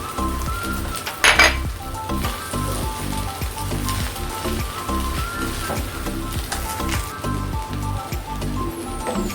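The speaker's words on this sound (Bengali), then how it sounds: "আমি এখানে নুডলসের মশলা দিয়ে নুডলসটা মিশিয়ে নেব।" A metal utensil clinks and scrapes steadily in a pan as noodles are tossed with spices and salt. There is one sharp louder clang near the start, and no voices are heard.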